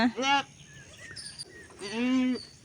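Young goat kids bleating on a farm where four nanny goats gave birth in one day: two loud, close, drawn-out bleats at the start and end, with a fainter call between them.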